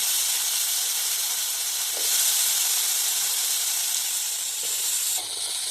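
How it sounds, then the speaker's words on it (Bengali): Diced potatoes fry in a pan of hot oil tempered with whole spices and a dried red chilli, giving a loud, steady hiss and sizzle that runs unbroken throughout with no talking. "দেখো আলুগুলো ভাজা গেছে"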